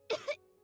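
A child character in Genshin Impact coughs twice in quick succession, close and clear, then falls quiet with faint background hum.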